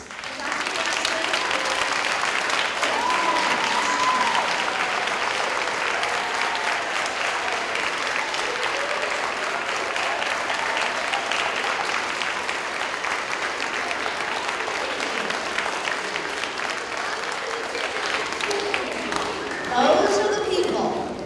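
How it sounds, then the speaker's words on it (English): A school assembly at Hawthorne applauds its standing teachers and staff. The long, sustained crowd clapping has voices mixed in, and the applause swells briefly near the end. "Could all the teachers and staff stand for a round of applause?"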